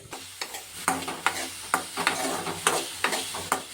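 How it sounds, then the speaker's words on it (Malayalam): Plantain is stirred in a pan with a spoon, regular scraping strokes about twice a second over a low steady sizzle, close and fairly clear with no talking. "നന്നായിട്ട് ഇളക്കി കൊടുക്കണം."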